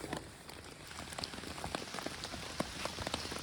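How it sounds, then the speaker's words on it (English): Rain falling outdoors at a campsite, a steady soft patter on nearby surfaces with scattered louder individual drops ticking through, continuous and fairly quiet with no voices. "Hopefully the rain will end"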